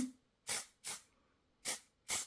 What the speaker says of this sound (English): I'm hoping that a little bit of the oxide spray, which looks like this, Forest Moss oxide spray from the paper clips, goes to the page now